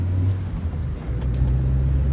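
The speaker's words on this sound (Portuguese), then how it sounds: "essa lombada aqui tem que passar bem atravessada" A lowered VW Saveiro pickup rolls over a speed bump, its engine giving a close, steady low rumble with a brief dip as the car crosses, and no talking.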